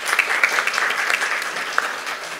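An audience clapping at a heritage tourism conference session, a short burst of steady applause from a crowd, moderately loud and even, with no one speaking over it.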